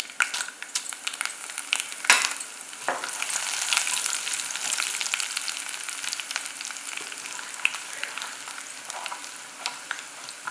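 Mustard seeds, urad dal and chillies fry in hot oil for Pongal tempering, a bright continuous crackle and sizzle with sharp popping of seeds and occasional stirring, close and without talk.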